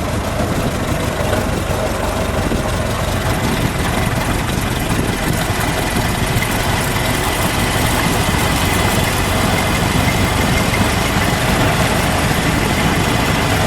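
A black 1919 Ford Model T three-door touring car engine runs at a steady idle, a loud, even, low rumble that continues unbroken throughout.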